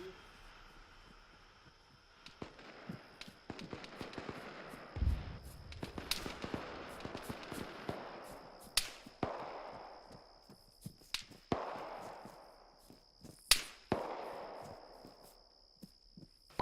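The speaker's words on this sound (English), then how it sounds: "Shots are coming from 160 up on the hill." Gunshots crack out over a hill in the military video game ArmA 3, a scattered series of sharp reports, some close and others far off with echoing tails, over a steady electronic hum.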